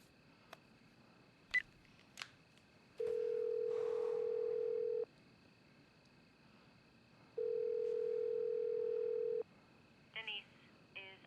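A telephone call rings out unanswered before reaching voicemail: two long steady ring tones separated by a pause, with brief clicks and a voice at the start and end.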